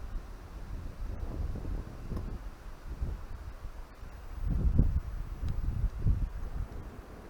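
Gusting wind buffets the microphone outdoors while a camping stove is being lit, with low rumbling surges that swell louder near the end and no talking.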